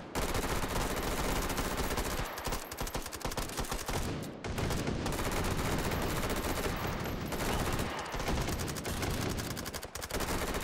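Dense, continuous gunfire in the VR shooter Hot Dogs, Horseshoes & Hand Grenades, rapid automatic bursts overlapping with only brief pauses, loud and close throughout.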